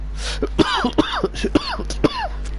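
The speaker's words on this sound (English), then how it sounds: "there's a cough down everyone's ear" A man in a racing league broadcast coughs and clears his throat in a short series of dry, close bursts, with no other talk.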